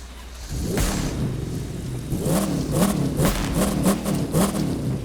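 A racing car in The Crew 2 on a rain-soaked track, traction control and ABS off, revs its engine hard in repeated rising bursts, a loud, close, throaty mid-pitched roar pulsing several times under steady rain hiss.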